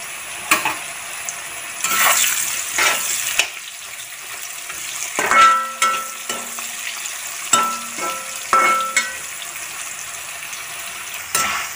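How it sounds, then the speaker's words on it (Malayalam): A fresh batch of breadfruit chips hisses loudly in a pan of hot oil, a constant bubbling sizzle broken by intermittent clinks and scrapes of a metal utensil stirring the pan. "ചിപ്സിന് വേണ്ടിയിട്ട് വറുക്കാനിട്ടിട്ടുണ്ട് കേട്ടോ."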